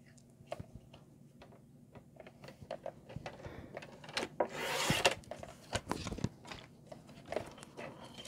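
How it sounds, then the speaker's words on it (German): A paper trimmer slices a strip of whisper-white cardstock, with small ticks and rubbing scrapes scattered throughout and one longer, louder gliding cut near the middle, all quiet and close. "Dann nehme ich jetzt Flüsterweiß, unser Schneidebrett. Und wir schneiden uns einen Streifen in 18 cm zurecht."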